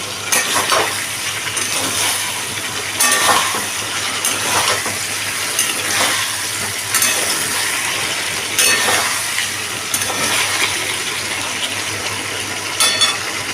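Potatoes with spice paste frying and being stirred in oil in a pan for Bengali shahi aloo dum, a steady close sizzle with recurring scraping and stirring strokes every second or two, no talking.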